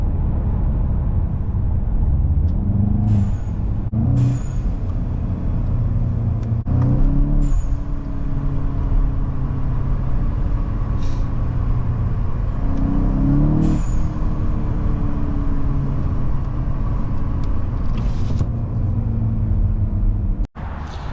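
A VW Mk8 GTI fitted with a loud blow-off valve drives down the street, its engine droning steadily while several sharp, hissing valve chirps break through after each pull.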